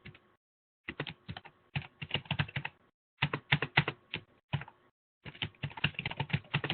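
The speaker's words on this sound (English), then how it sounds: "I can start typing their names if I want to and move things around that way." Someone types names on a computer keyboard in short bursts of close, crisp key clicks, separated by brief pauses, with no talking.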